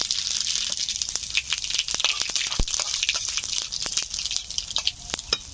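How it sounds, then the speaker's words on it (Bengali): Dried red chillies and whole cumin seeds dropped into hot oil: a continuous close crackling sizzle with sharp pops and spits throughout, fairly loud and unbroken by speech. "তেল গরম হয়ে গেছে, দিয়ে দিচ্ছি শুকনো লঙ্কা,"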